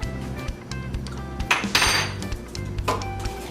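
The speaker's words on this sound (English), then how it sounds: "you need to keep on stirring the sauce because you do not want the bottom of the pot to get burned" A utensil scrapes and clinks steadily against a pot while cheese sauce for macaroni and cheese is stirred, a close, busy run of metallic knocks and scrapes.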